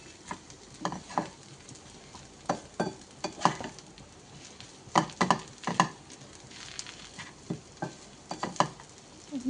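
Potatoes with spices and curry leaves stirred in a frying pan, irregular scraping and patting strokes over a faint sizzle, close and fairly quiet.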